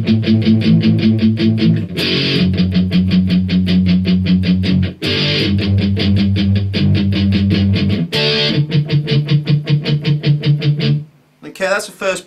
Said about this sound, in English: Really kind of heavy palm muted